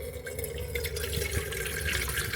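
Water pours from a water bladder into a billy can at a camp cooking spot, a steady trickling and dripping stream held at an even level throughout, close by with no talk over it.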